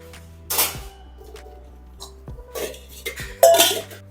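Kitchen utensils being put away in a home kitchen, giving a few separate clinks and clatters of metal pots and dishes, close and moderately loud with quiet gaps between.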